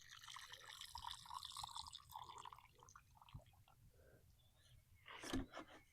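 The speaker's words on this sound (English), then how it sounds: "Okay, so we're going to come in and water very well." Water poured over a freshly planted rose cutting in a garden, a soft irregular trickle and drip running for several seconds with a brief louder splash near the end.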